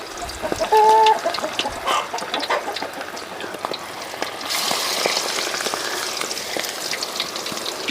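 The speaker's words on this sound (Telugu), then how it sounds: "వేడి వేడి ఆయిల్లో కంజు పిట్టని అలా వదిలేతాం" Quail kebab pieces frying in hot oil, a loud close sizzle that swells as the meat goes in, with a brief chicken cluck early on.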